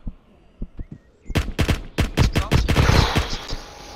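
Gunfire in the Roblox game Aftermath: a few faint shots, then rapid, loud bursts of shots in close succession. The shooting grows denser and more continuous toward the end.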